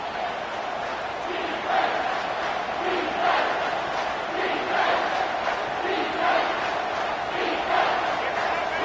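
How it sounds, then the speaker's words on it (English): A stadium crowd roars steadily at a college football game on third down, a dense, sustained wall of cheering and shouting with a few louder swells, and no clear talk over it. "Third down, and this crowd is tearing the lid off this place."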